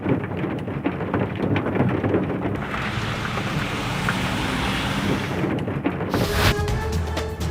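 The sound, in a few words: heavy rain and hail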